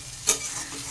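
Boiled giant taro fries in a pan with a faint, steady sizzle, broken by one quick scrape of stirring near the start.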